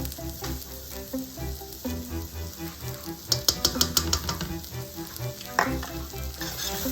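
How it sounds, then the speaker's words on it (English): Flour being stirred into onions frying in a pan, a steady close sizzle with scraping stir strokes and a brief cluster of sharp clicks midway, no talking. "sprinkle flour over the onions and stir until combined"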